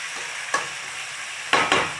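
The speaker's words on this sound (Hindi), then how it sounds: "आपस में सब मिक्स करके अच्छे से चलाएंगे।" Chicken masala sizzles in a pan while it is stirred, a steady loud frying hiss interrupted by three distinct scraping strokes of a utensil against the pan.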